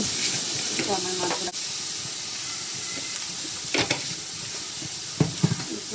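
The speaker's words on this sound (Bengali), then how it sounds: "এদিকে পাঙ্গাস মাছ রান্না করা হচ্ছে" Pangas fish sizzling and frying in a pan in a home kitchen, a steady hiss with occasional clinks and stirring scrapes, while a voice talks over it.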